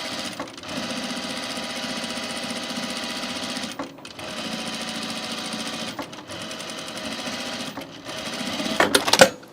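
A domestic sewing machine runs a top stitch along a shirt seam, a steady close whirring drone broken by three short pauses before a burst of louder clatter at the end.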